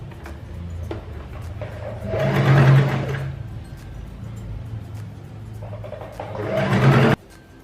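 Sewing machine stitching kurta fabric, running in two close bursts of rapid whirring with a quieter pause between, ending abruptly.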